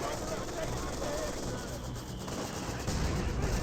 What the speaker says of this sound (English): Massive mortar hit there.